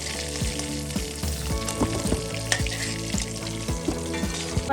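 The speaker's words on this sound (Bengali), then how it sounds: "এই তেলের মধ্যে আবার মাংসই বসাই দেবো" Mutton pieces fry in hot oil in a home kitchen, a steady close sizzle and crackle with occasional stirring knocks throughout, no voices.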